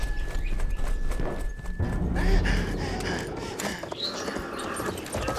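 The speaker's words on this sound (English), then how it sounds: "There's a horsey. I'm getting on the horsey." A horse in the video game Battlefield 1 gallops, rapid muffled hoofbeats beneath game noise and gear rattles, with a person talking over it.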